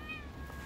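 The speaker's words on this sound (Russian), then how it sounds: "Кошка охранница." A cat by outdoor garages next to a building gives one short meow, close and fairly soft, over a low background hum.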